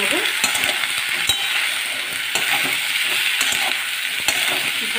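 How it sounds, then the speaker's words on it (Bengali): Vegetables for a Bengali chorchori stir-fried in a pan, a steady bright sizzle broken by frequent sharp clicks and scrapes of the spatula, close and continuous with no talking. "আবার আমি ভালো করে নাড়িয়ে নেব"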